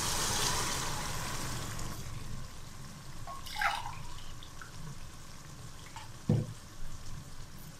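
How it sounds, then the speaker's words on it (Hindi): Water pours into a cooking pot of vegetables for pulao, a soft hiss and splash under a faint sizzle, followed by a few splashy drips and knocks near the end. "अब हम इसमें पानी डालेंगे,"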